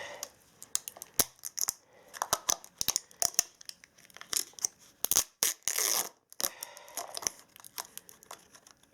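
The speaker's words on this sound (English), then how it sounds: "I'm going to start off with the trusty old steak knife" A steak knife prying and scraping at the plastic casing of a laptop battery pack, giving close, irregular clicks, snaps and crackling bursts separated by short pauses.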